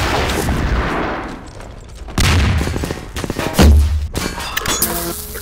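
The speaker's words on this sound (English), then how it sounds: "The goddamn tank shoots fucking rockets!" A tank fires rockets in Half-Life 2 Episode 1 combat. Sharp, loud blasts land in separate bursts with booming impacts and metallic clangs, and no one speaks.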